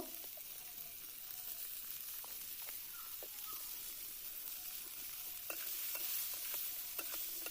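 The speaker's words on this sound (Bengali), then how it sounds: "দিয়ে নাড়াচাড়া করবো করে পটলটা ভালো করে ভেজে নেবো" Pointed gourd pieces with turmeric and salt sizzle in hot oil in a pan, a soft, continuous frying hiss with occasional stirring scrapes, more frequent near the end, heard close and alone.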